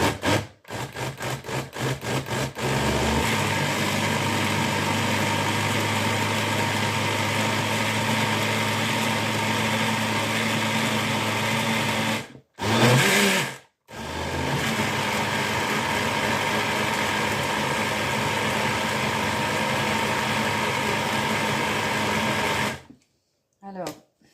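Cheap 12-euro countertop blender from Action starting with a few stuttering pulses, then a steady loud whirring motor hum at first speed, a brief cut and restart at second speed, ending abruptly.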